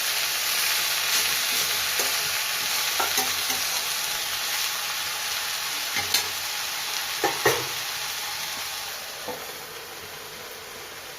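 Fenugreek greens and potatoes being stirred in a frying pan for a Bengali-style dish: constant close sizzle with scattered scraping and clinking of the spoon, no voices.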